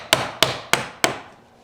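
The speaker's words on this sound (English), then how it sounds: "That means the chisel is going to easily move into the void, and it makes the chiseling very simple." A chisel driven into wood with four evenly spaced, sharp strikes while cutting a wedged mortise and tenon joint, close and loud, each hit decaying quickly into the room with no talk.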